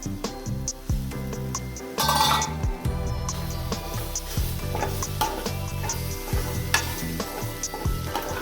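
Green chickpea leaves being stirred in a pan, a steady sizzle under repeated scraping and clinking of the spoon against the pan, with a brief louder burst of frying.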